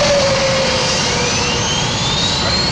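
Jet engine number 4 spooling up on an airliner before departure, a loud steady roar with a rising whine climbing in pitch throughout, no talking.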